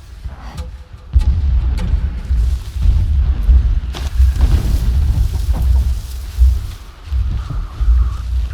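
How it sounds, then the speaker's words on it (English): Distant explosions in the video game Horizon Zero Dawn rumble as a series of deep, heavy booms, several overlapping thuds rolling one after another at fairly loud volume. "explosions in the distance. Pay that no mind."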